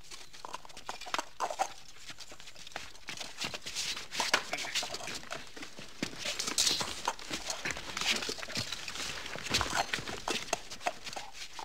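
Horse hooves clip-clop steadily on a hard surface, with rustling and movement noise around them; no talking.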